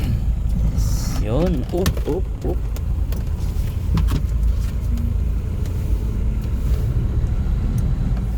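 A vehicle reverses slowly into a parking spot outside a house, its engine rumbling loudly and steadily throughout while people nearby call out guidance.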